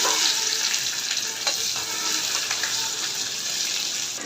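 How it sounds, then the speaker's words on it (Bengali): Chopped onion frying in hot oil in a pan with dry red chilli, a continuous close crackling sizzle with a few sharper stirring clicks partway through, steady throughout. "এখন দিয়ে দিলাম পেঁয়াজ কুচি। পেঁয়াজ কুচি এর সাথে ভেজে নিলাম।"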